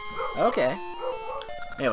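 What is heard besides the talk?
dog barking in the room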